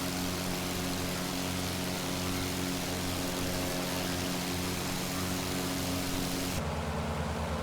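Propeller aircraft engine roaring steadily during takeoff in a flight simulator game, a loud continuous drone that drops to a lower, muffled tone near the end.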